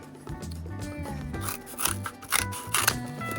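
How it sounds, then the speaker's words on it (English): Scissors snipping a rectangle out of a piece of cardboard for a cat mask snout, a close series of crisp, crunchy cuts in uneven rhythm with faint background tone. "and cut out a rectangle"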